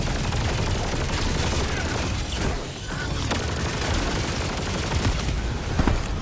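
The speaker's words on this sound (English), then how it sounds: "Ah, I'm being mortared." Mortar strikes and gunfire in the video game Helldivers 2, a dense barrage of shots and booming impacts, loud and continuous with a brief dip midway and a sharp blast near the end.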